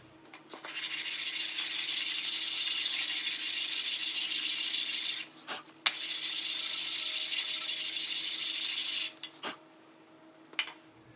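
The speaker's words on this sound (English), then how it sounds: "So let me sand out a little bit more, and we'll get her squared up." A sharpening stone rubbed on sandpaper to flatten it, giving long continuous gritty scraping strokes, close and loud, with a brief pause and a couple of knocks between passes before the grinding resumes.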